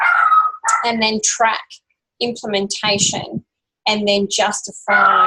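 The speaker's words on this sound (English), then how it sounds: "sorry, that's my dog" A pet dog barks and yips in a home during an online class, in short bursts mixed under a person speaking steadily nearby.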